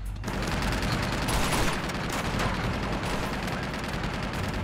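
M4 rifle fire in Uncharted 2: Among Thieves comes as a dense, continuous rattle of shots, loud and close, with no gaps and no talking.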